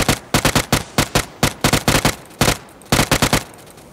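Rapid gunfire in PUBG comes in quick bursts of sharp, loud shots with brief gaps, close and punchy, and no talking is heard.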